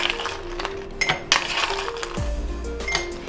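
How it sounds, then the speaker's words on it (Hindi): Ice cubes clink and knock into a serving glass while a faluda dessert is being assembled, several light, bright taps and rattles at close range with no talk. "अब इसके नीचे सबसे पहले हम अपनी बर्फ़ ऐड करेंगे।"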